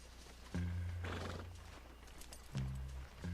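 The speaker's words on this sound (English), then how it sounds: "It's a nice black horse." A black Tennessee Walker horse in Red Dead Redemption 2 gives two short neighs a couple of seconds apart, with soft hoof clops and snorts in between, fairly close and free of talk.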